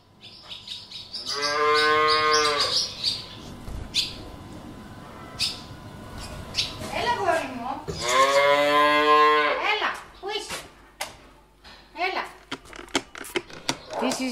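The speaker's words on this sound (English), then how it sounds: "This is our new calf. He is 3 weeks old" A three-week-old calf on a Greek Orthodox monastery farm gives two long, drawn-out moos with a pause between them, loud and close, while birds chirp faintly in the background.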